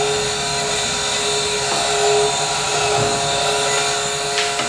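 Constant loud machinery drones in a French gold-beating workshop where gold is crushed, melted, forged and rolled, a steady whine with a strong fixed tone and a few faint knocks beneath it, no voices.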